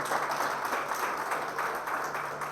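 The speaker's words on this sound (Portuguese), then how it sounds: "Pode aplaudir o Senhor." A church congregation applauding in praise after a healing testimony: a steady wash of many hands clapping at moderate level from a crowd, continuous, with faint background voices mixed in.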